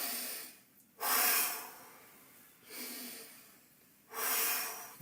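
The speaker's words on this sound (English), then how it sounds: "let's just try this feeling of breathing in and how we contract our chest when we breathe out" Slow, deliberate breaths during a karate breathing exercise: loud airy inhales and exhales alternate in long, steady cycles close to the microphone, with no talking.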